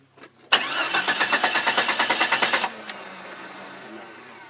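An off-road vehicle's engine cranks with a rapid, even pulsing starter rhythm for about two seconds, loud and close, then stops without catching and falls to quiet background hiss, preceded by a couple of short clicks.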